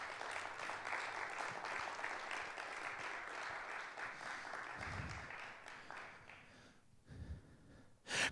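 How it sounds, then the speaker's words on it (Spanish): A church congregation applauds in a steady, dense wash of clapping that continues for several seconds, fairly distant and soft, fading slightly near the end. "Dele un aplauso al Señor."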